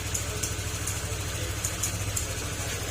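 Honda Click 125 scooter whose engine ran short of oil, started and left idling, giving a steady low, close rumble with a faint even pulse and no breaks, with no voices over it.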